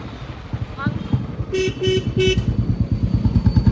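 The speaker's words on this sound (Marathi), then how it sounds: "गाडीचा हॉर्न मारलाय" Three short car horn honks in quick succession sound over a running motor engine while people talk nearby.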